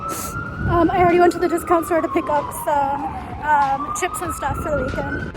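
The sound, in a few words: emergency vehicle siren passing outdoors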